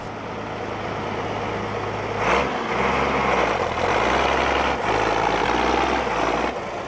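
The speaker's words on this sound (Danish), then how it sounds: "Don John, et stykke traktor." A tractor engine runs steadily and close by, its low rumbling idle rising and falling slightly in pitch, with a few brief surges, alone without talk.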